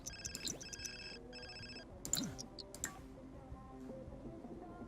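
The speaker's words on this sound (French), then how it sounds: "C'est le téléphone de qui sonne là?" A telephone rings in The Sims 4 game, a repeating electronic ring pattern in bursts amid soft ticking game sounds, fairly quiet and without talk.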